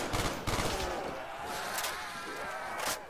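Gunfire in Call of Duty: World at War Zombies on the Kino der Toten map, a couple of loud heavy shots up front and more bangs later against a noisy game background, with a voice talking.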